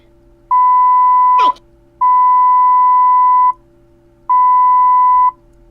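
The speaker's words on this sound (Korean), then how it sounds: "이거 계속 삐소리 해줘요?" Three steady electronic censor beeps, each about a second long, separated by short gaps, with a brief whoosh near the first beep.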